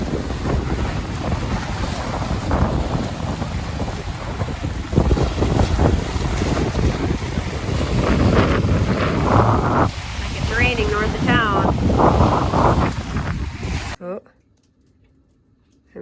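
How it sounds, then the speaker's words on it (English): Strong wind blows outdoors on a chilly day, roaring steadily into the microphone with heavy buffeting for about fourteen seconds, with a voice faintly under it before the sound cuts to near silence. "Windy here all day,"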